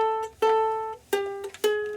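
A ukulele played in a kids' lesson plucks four clear single notes in a slow, even rhythm, each ringing briefly, close and alone with no talking.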